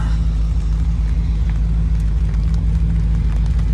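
A 1980 Triumph TR8 drives on a wet road after winter storage, its engine a loud, steady low drone heard from inside the car with constant road noise and no talking.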